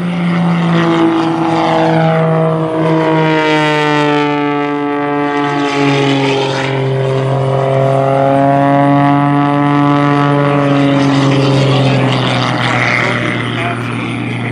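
A highly modified Pitts S2 aerobatic biplane drones past loud and close, its propeller engine holding a steady, strong tone that swells slightly and shifts pitch as it rolls, with no other sounds over it.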